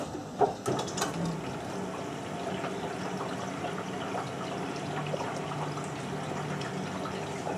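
Water runs and splashes steadily into the drum of a Miele W562 washing machine during a Minimum Iron 30°C wash, a continuous close filling rush with faint mechanical knocks near the start.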